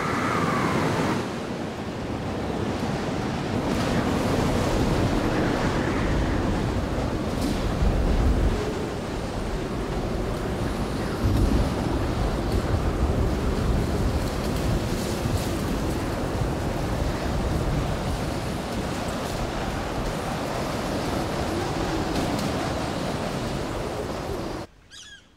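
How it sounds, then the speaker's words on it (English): Icy storm winds from the Southern Ocean roar across Kangaroo Island with heavy ocean surf beneath them, making a dense and continuous wash of noise that stays loud and steady until it cuts off at the end. "Frequent storms bring icy winds from the Southern Ocean."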